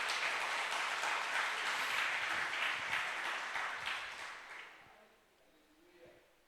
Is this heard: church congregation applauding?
yes